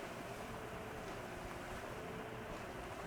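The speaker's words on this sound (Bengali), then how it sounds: "আজকে সমুদ্রে অনেক ঢেউ দেখাই যাচ্ছে" Steady rushing sea waves and wind wash continuously near a submarine in the GTA 5 Online video game, loud and unbroken with no talking.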